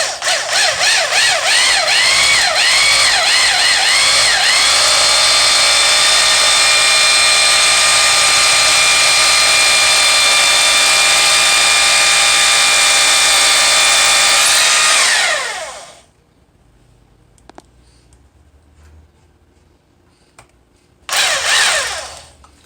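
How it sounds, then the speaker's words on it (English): A power drill whines loudly and steadily for about fifteen seconds, its pitch rising and dipping as it bites into wood, then stops; a brief whir follows near the end. "You gotta be careful with the drill when you first start it"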